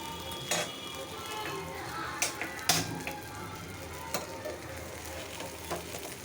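Eggplant slices fry in a pan with a steady close sizzle, punctuated by occasional sharp pops and spatters during home cooking of several dishes.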